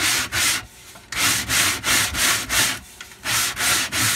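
The edge of a 1960s Ludwig drum shell is rubbed over four sheets of 60-grit sandpaper in a steady series of about eight loud back-and-forth scraping strokes, each with a short pause.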